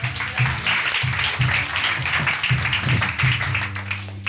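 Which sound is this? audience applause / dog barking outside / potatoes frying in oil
audience applause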